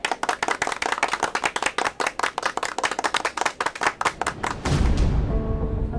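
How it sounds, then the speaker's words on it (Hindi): A group of new students claps in a quick, uneven rhythm, the sharp claps coming close and loud for several seconds. The clapping then gives way to a louder, rumbling crowd noise. "नए बच्चे लोग ताली बजा कर तो बता दो"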